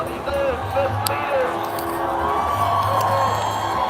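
A crowd at a No Kings Day rally in Chicago cheers and whoops in a steady, dense roar, with a nearby voice talking over the noise.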